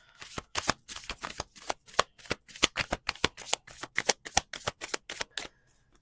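A deck of playing cards is riffle-shuffled up close, about twenty quick, crisp fluttering bursts in an uneven run over six seconds, then a brief pause at the end, with no talking.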